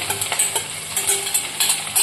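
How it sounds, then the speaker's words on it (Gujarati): Okra crackles and sizzles steadily as it fries in hot oil, with a few sharp pops and faint clinks of utensils throughout. "તેલ ગરમ થઈ ગયું છે તો હવે આપણે ભીંડો આપણે આને અંદર બધો નાખી દઈશું"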